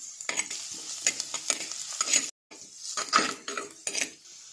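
Ginger and crushed shallots fry in a pan for a sardine curry, with a steady close sizzle, scraping stirs and light metallic clinks, and one brief silence.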